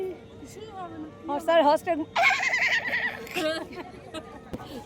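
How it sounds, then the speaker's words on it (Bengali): Horses stand waiting for rides at a hill-town tourist spot, and one gives a clear, loud whinny in the middle, with a few shorter neighs before and after it, under people chattering nearby. "ওই যে দেখ ঘোড়াগুলো দাঁড়িয়ে আছে"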